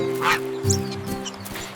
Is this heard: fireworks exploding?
no